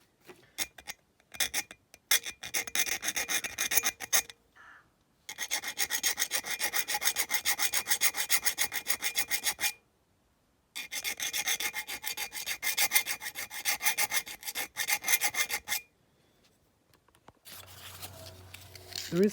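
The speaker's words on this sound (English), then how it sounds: "There is a bit of rust on the axles, so I'm just going to rub it off with a bit of like emery paper." Emery paper rubs rust off the metal axles of a die-cast Dinky Toys Austin London taxi in rapid, scratchy back-and-forth bursts, close up, separated by short pauses.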